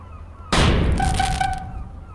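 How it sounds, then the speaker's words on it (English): A firework goes off in the horror video game Garten of Ban Ban Chapter 2, a sudden loud blast followed by a crackling, fizzing tail that fades over about a second and a half, with no one talking. "Got another firework."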